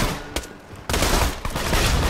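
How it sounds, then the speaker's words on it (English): Gunfire in the video game Borderlands 2: a short burst, then dense rapid shots and a loud sustained barrage of automatic fire after a brief lull. "I'm being immediately shot from somewhere"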